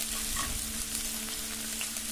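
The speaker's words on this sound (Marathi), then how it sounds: "छान अशी आलं लसणाची पेस्ट आपल्याला परतून घ्यायची आहे" Ginger garlic paste sautéing in hot oil with cumin and curry leaves in a home kitchen, a steady, close sizzle and frying crackle with faint stirring, no voices.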